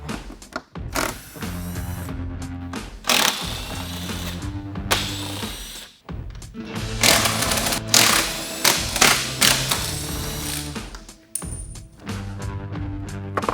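A 13mm socket spins out the tire carrier bolts on a Jeep Wrangler JL, a loud, close mechanical whir with rapid buzzing bursts that start and stop several times over the span.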